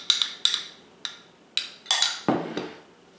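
Corn fritters being plated onto a serving platter, with a handful of sharp ceramic and metal clinks and taps spaced irregularly, close and fairly quiet, with no talking.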